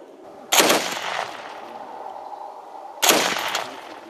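Two sharp bursts of gunfire on a military training ground, a few seconds apart, each a loud crack trailing into rattling echoes over steady background noise.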